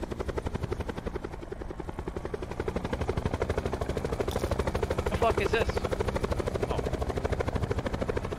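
A chopper in a zombie-themed multiplayer shooter makes a loud, continuous rotor chop with a fast, even beat, while a player swears in surprise.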